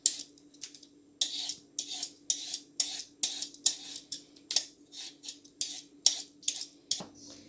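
A carrot is peeled or cut in a kitchen as a series of quick, sharp scraping strokes, a dozen or more in an even rhythm, close and clear, with a faint steady hum underneath.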